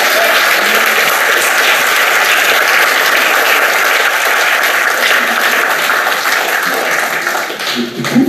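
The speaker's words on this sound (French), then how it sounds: "parce que gentil de m'applaudir" Loud audience applause breaking out during a French lecture on territorial reform and cross-border policy, dense clapping from a full room that holds steady and begins to fade in the last second.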